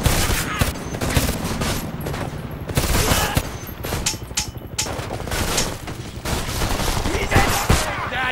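Heavy gunfire rattles through a Homefront firefight, with loud, dense bursts of automatic shots and rapid volleys close by almost without pause, and shouting voices mixed in beneath.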